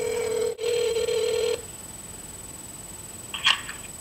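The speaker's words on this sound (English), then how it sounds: "I think it's time to call Tanya." A telephone tone sounds steadily for about a second and a half, then cuts off, followed by quiet line noise and a short electronic blip near the end.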